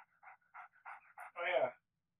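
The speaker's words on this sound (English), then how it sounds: "there's a dog here that wasn't here before." A dog pants in the Nancy Drew: Ghost Dogs video game, a close run of short rhythmic huffs followed by a brief louder whine-like breath, then silence.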